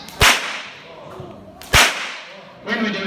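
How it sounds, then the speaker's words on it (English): A whip cracked up and down alongside a horse snaps sharply twice, about one and a half seconds apart, loud and close, followed by a softer rustle. "there's two methods that we use to crack the whip"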